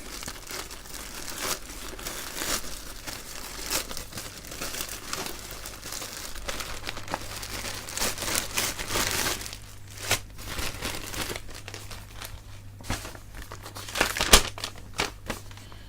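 A parcel is opened by hand, its packaging crinkling and rustling steadily at close range with sharper tearing snaps scattered throughout, and a low constant hum underneath with no talk.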